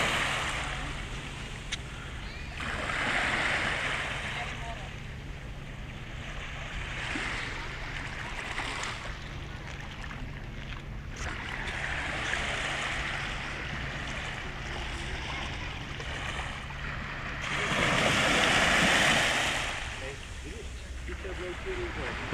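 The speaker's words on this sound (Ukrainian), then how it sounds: "Вот это вот море." Sea waves wash onto the shore at Zadar, Croatia, a broad steady rush that swells and recedes in slow surges, with faint talk in the background.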